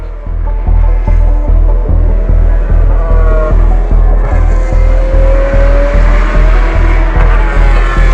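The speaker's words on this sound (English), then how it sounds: "Here I am watching the support races, thinking it's going to be amazing when the F1 cars race in the wet." Race cars in a support race at the Belgian Grand Prix circuit roar loudly and steadily, a repeating pulsing engine drone with rising gear-change whines, no talking.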